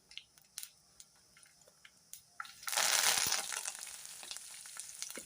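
Curry leaves dropped into hot tempering oil burst into a loud, crackling sizzle after a few soft clicks and taps, then settle into a steadier, fading fry.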